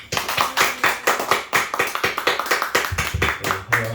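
Congregation applauding to welcome a new deacon at a Sunday church service, a dense, steady clapping that fills the room throughout with no talk.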